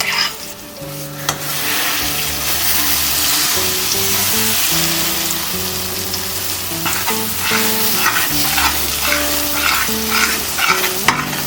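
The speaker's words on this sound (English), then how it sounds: "Now I'm going to add our banana dates pulp into this ghee." Banana and date pulp sizzles steadily in hot ghee over a low to medium flame, with repeated scraping strokes of a stirring utensil layered on top of the continuous frying hiss, close and fairly loud throughout.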